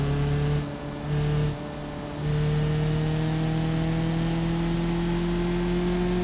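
Car engine in the BeamNG driving game on a snowy mountain road, a steady droning hum whose pitch climbs smoothly as the car speeds up to overtake, heard alone without speech.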